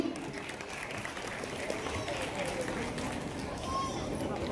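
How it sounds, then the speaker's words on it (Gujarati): Applause from the audience at a student award ceremony, a soft, continuous patter of many hands clapping at a distance, steady and fairly quiet throughout. "તાળીઓના ગણગણાટથી ધ્રુવીને આપણે વધાવી લઈશું."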